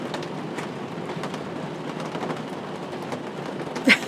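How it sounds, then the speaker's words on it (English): Steady rain falling, a soft, even hiss with scattered louder drops and one sharper knock near the end, with no voices. "Man, the rain."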